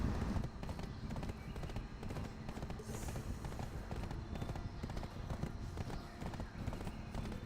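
A level 1 horse runs at a steady clip in the Black Desert game, its hoofbeats a continuous, fairly even patter over a dense bed of ambient game noise, moderately loud throughout.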